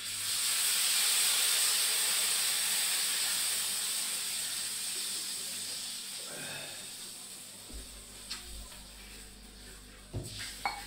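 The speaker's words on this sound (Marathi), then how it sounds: "याच्यात टाकायचं आता पाणी." Water hits a hot pan of fried turmeric and red chillies with a loud, steady hiss that slowly fades, followed by a few faint clinks and taps.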